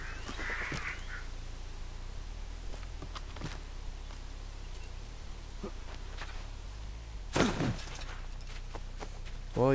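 Harsh crow caws ring out a few times in Assassin's Creed III over a quiet background with scattered clicks, one loud burst of cawing standing out near the end.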